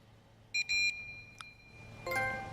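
Sharp electronic alarm beeps in Resident Evil 2 Remake: a short burst of two or three tones, a lone blip, then a louder sustained beep over a low game ambience.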